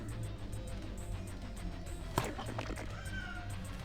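A house cat meows indoors while someone talks over it, with a brief sharp knock partway through and a faint higher cry near the end.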